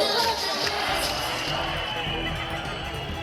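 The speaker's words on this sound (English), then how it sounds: "the guards challenge and taunt each other, cheered on by the excited flag-waving crowds as they close the border for the night" A flag-waving crowd at the India–Pakistan border closing ceremony roars in a steady, dense wash of cheering and shouting that holds for the whole stretch without a break.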